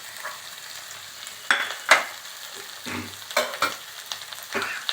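Ginger and tomato sautéing in a little oil in a pan for a mushroom curry, with scraping stirs and clatter over a soft steady sizzle, several sharper strokes through the middle, no voices.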